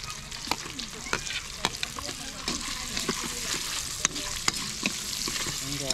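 Chicken fries with garlic and onion in a pan, a steady close sizzle broken by regular clacks and scrapes of stirring, with faint voices in the background.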